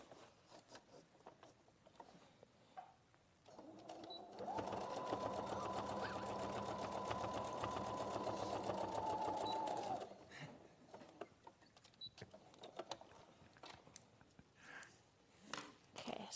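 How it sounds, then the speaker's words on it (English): A domestic sewing machine stitches across lined-up fabric seams in a steady, fast mechanical whir lasting several seconds, framed by quieter handling clicks and rustles before and after. "So same with the other one, lining the seams together and then sewing across."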